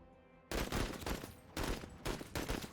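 Bursts of rapid automatic gunfire in the tactical video game Menace, loud and dense, coming in three or four sharp volleys separated by short gaps.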